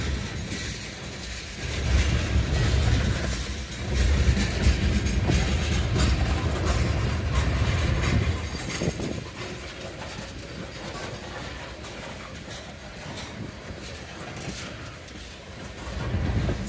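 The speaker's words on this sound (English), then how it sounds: "It's like a good sized train." A Conrail freight train on the Vineland Secondary in Woodbury, New Jersey rolls past with a steady rumble and clattering wheels, swelling and fading slightly as the cars go by.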